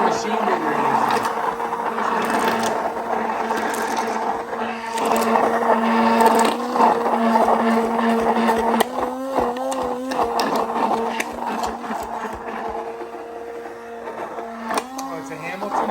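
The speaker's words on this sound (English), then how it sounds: "Oh, it's a Hamilton Beach. I guess it's some kind of blender." A Hamilton Beach electric immersion hand blender whirs steadily while mixing a spinach salad dressing, its motor pitch shifting at intervals, with people talking over it.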